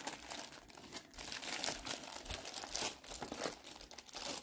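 Plastic packaging around a Logitech K400 Plus wireless keyboard crinkles and crackles continuously as it is handled, a close, busy rustle with no speech.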